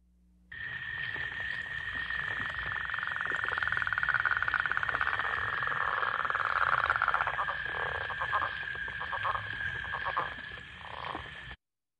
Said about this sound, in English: you should hear the rattling snore and then that chuck at the end